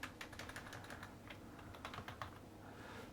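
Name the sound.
typing terminal command on computer keyboard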